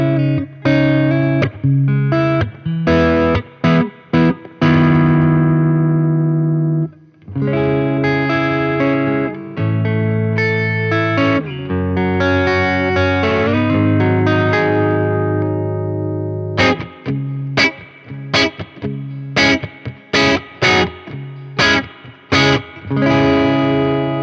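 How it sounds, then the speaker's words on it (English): Electric guitar played through a Monoprice tube amp using its built-in spring reverb, with distorted chords and single notes ringing out, short choppy strums alternating with longer sustained passages, loud and close with no talking. "the reverb that's built into it versus the reverb, which is also a spring reverb emulation from the Volante"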